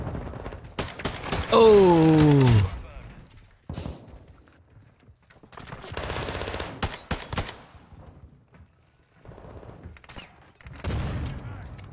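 Bursts of video game gunfire in clustered volleys, loud and close, separated by quieter gaps. A person's voice briefly exclaims over one burst.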